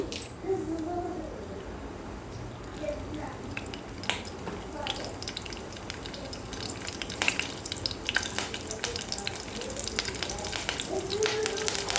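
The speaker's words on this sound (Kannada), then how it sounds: "ಸ್ವಲ್ಪ ಸಾಸಿವೆ ಸ್ವಲ್ಪ ಜೀರಿಗೆ ಒಂದು ಸ್ವಲ್ಪ ಕರ್ಬೇವಿನ ಸೊಪ್ಪು ಹಾಕೊಳ್ಳೋಣ" Mustard seeds, cumin and curry leaves sizzle in hot oil for a beans palya, a steady close crackle with sharp pops and spits scattered throughout, now and then a stir or clink, with no talk.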